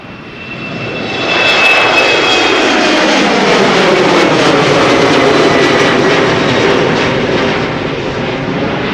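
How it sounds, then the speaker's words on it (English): Embraer 190 jet engines roaring as the airliner passes close by, swelling loud after a second and holding a steady, powerful drone, with no voices. "Embraer 190."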